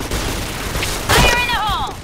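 A grenade blows up in a video game, a single short blast cutting through steady game noise, with voiced callouts and chatter heard around it.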